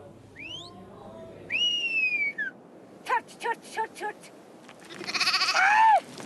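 Sheep and goats in Ladakh bleat from a herd of about 300: several wavering calls and a burst of short pulsed bleats over steady outdoor background noise, ending in one long loud bleat.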